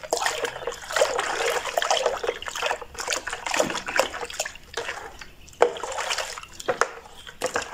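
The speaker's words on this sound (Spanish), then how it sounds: "Y es momento de agregar el agua que nos falta." Water poured into a homemade multipurpose degreaser cleaner mix, a steady close splashing trickle with gurgling fluctuations and a few louder splashes, no speech over it.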